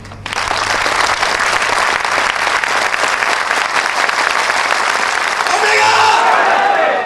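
An audience claps in sustained, loud, dense applause that runs almost the whole time, with a voice briefly audible near the end.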